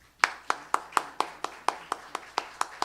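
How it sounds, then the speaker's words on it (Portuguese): At a literary academy conference, the audience welcomes a speaker with clapping that comes through as evenly spaced, sharp single claps, about four per second, fairly close and clear over a quiet room. "peço aplausos antecipados e também aplausos de boas-vindas à nossa conferencista de hoje"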